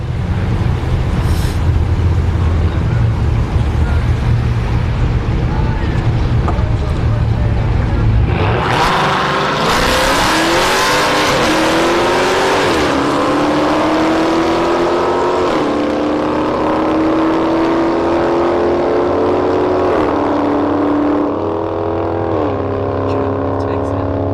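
A Mustang GT and a Volkswagen race at Orlando Speed World's drag strip. A low idling rumble gives way to a loud, close launch, and the engines then scream through rising revs and gear changes.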